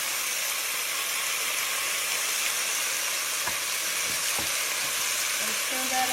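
Garlic thrown into beef browning in a pan for pepper steak sizzles loudly and continuously at close range, with a couple of soft knocks and a faint clink near the end.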